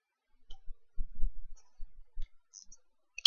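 Computer keyboard typing in a quiet room: a few scattered soft key clicks, with a brief sharper tap near the end, no voices.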